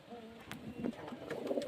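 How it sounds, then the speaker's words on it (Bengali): Pigeons of good breeding quality, kept for sale, coo in soft repeated low notes close by, with light rustling and a faint bird chirp in between. "এই যে পায়রা দেখালাম খুব ভালো ভালো কোয়ালিটির পায়রা"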